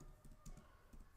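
Computer keyboard typing while a request to ChatGPT to build a portfolio website is entered: a short, close burst of soft key clicks in an irregular rhythm, with no voice.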